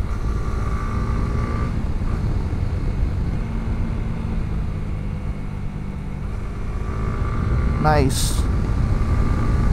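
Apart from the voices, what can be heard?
Honda CB150X motorcycle engine while riding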